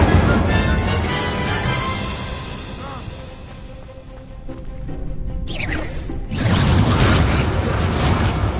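The Incendio fire spell is cast during a duel in Hogwarts Legacy, a sharp whooshing burst followed by loud, sustained roaring crackle over busy game effects.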